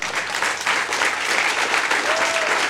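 Steady applause from an audience, many hands clapping continuously and fairly loud throughout, with no pause.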